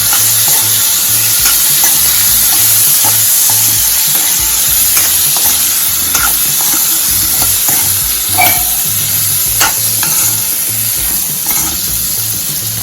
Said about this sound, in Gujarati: તો હવે તેને આપણે મીડિયમ ગેસની ફ્લેમ ઉપર એકદમ આપણા જે ગુંદા છે તે કડક જેવા થઈ જાય ત્યાં સુધી સાંતળવાના છે